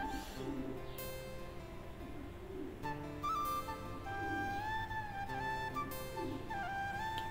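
Soft pigeon cooing repeats several times at a gentle pace, faint and somewhat distant, over a steady background with occasional tonal sounds.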